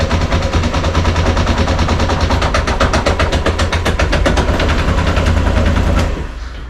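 A motorcycle engine fires up and runs roughly after the spark plug boot is reconnected, loud and close with rapid uneven popping pulses like a stuttering idle, cutting out sharply at the end.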